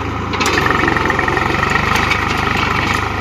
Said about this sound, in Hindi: देखिए ट्रैक्टर कितना स्लिप मारता है